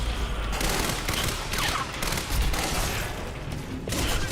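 Advanced SMG firing in the video game Quantum Break: dense, continuous rapid bursts of loud automatic gunfire with booming low-end impacts, sustained almost without pause.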